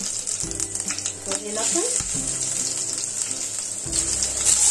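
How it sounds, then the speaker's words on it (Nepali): Cumin seeds fry in hot oil for a steady close sizzle, part of a Nepali Dashain potato dish, with a brief spoken remark and kitchen clatter over it. "यसलाई फ्राई गर्छु अब जिरा फ्राई"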